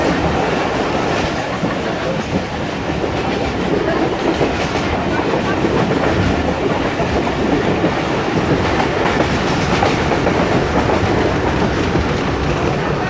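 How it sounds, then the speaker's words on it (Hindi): A train runs on rails as it enters Gujar Khan railway station in Pakistan, with steady, loud rumbling and rhythmic clickety-clack of wheels that fills the whole stretch, a faint voice buried under the noise. "गुजर खान रेलवे स्टेशन में एंटर हो रही है गाड़ी"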